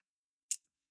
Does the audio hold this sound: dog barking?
no